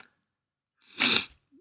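A single sharp human sneeze bursts out close by, loud and brief, after a moment of quiet, with a soft trailing breath.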